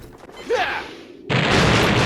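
A fuel barrel explodes in the video game Star Fox Adventures: a short mechanical clank and rising tone, then a sudden loud burst that settles into a sustained, noisy rumble.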